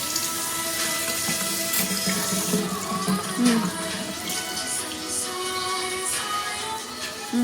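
Running tap water at a kitchen sink while tofu is washed before pan-frying, a steady close rush of water with light splashing throughout.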